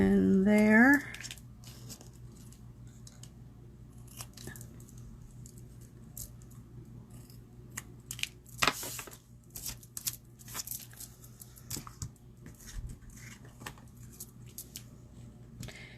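Scissors snip through paper strips for a card-making craft, giving scattered faint cuts and paper rustles after a brief voice at the start, with a soft steady hum underneath.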